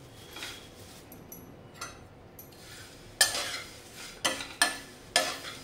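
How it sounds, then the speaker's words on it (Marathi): A spoon scrapes and stirs flattened poha as it dry-roasts in a pan with no oil, making soft scratchy strokes and a few sharper clicks against the metal, close and fairly quiet. "पोहे भाजायला वेळ नाही लागत, 3 ते 4 मिनिटांमध्ये छान असे मस्त असे बघा क्रिस्पी झालेले आहे"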